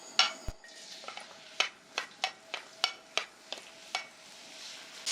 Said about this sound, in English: add chopped garlic.